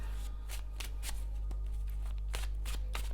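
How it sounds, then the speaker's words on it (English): A deck of tarot cards is shuffled close to the microphone, giving a run of sharp riffling bursts in uneven rhythm over a low steady hum. "Couple of more shuffles."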